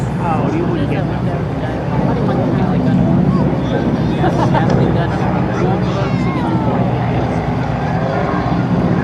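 Warbird aircraft fly past at the 2014 Culpeper Air Fest, a steady, fairly loud propeller and engine drone that carries the whole time under an announcer and crowd chatter.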